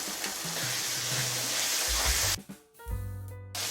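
Beaten sour yogurt goes into spices frying in a pan for a jackfruit and paneer curry, producing a steady close sizzling hiss that drops out briefly near the end before resuming.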